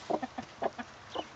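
A mother hen on a farm clucks in a quick irregular run of short calls, fairly close and distinct, with a slightly higher squawk near the end.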